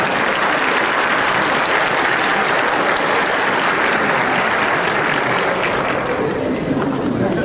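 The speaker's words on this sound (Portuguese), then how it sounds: "Vamos dar uma salva de palmas para essa turma do Brasil." Audience at a talk on creativity and innovation applauding a group from Brazil, a dense, loud, continuous wash of clapping that holds steady for several seconds.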